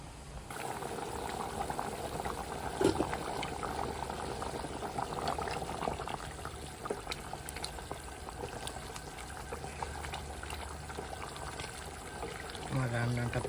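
Beef and potato curry boils in a covered pot, giving a steady, dense bubbling hiss with faint trickling. It stays even and moderately loud throughout, with a few small clinks.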